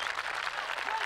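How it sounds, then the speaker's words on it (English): At a World's Strongest Man final with a strongman carrying the Husafell stone, a crowd roars and applauds in a dense, sustained wash of shouts and clapping, with a commentator's voice over it. "The crowd is shouting for him."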